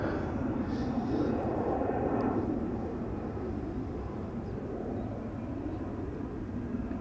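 A KLM Boeing 737 takes off at Schiphol's Polderbaan runway, a steady broad jet roar holding at constant loudness across the whole stretch, fairly close and unbroken, with no voices over it.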